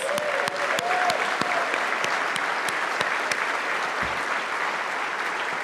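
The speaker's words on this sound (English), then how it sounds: "let's give them a big round of applause" Sustained applause from a large crowd at a New York gala dinner, steady dense clapping throughout with a few sharper claps standing out.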